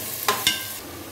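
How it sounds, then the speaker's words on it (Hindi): Onions fry in oil with bay leaves in a pan, a soft steady sizzle broken by two quick stirring scrapes close up, with no talking. "लाइट गोल्डन होने तक इसे प्याज को हम तेल में फ्राई करेंगे।"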